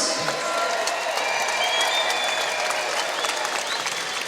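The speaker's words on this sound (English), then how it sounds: "How about a round of applause for both these fighters?" A crowd applauds both fighters after an eight-round boxing bout at a CES Autumn Classic event, a steady wash of clapping with light cheering throughout.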